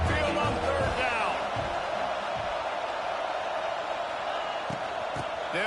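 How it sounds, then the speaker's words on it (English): At a college football stadium on third down, the home crowd lets out a loud, continuous roar that fills the air, with a broadcast announcer talking over it. "The Tide crowd rolling noise down onto Saban Field on third down."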